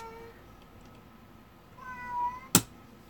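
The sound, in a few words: cat meowing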